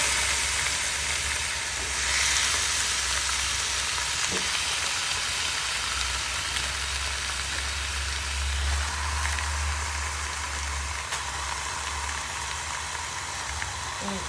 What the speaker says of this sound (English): this is the hot pan we're going to be using to cook this turkey meat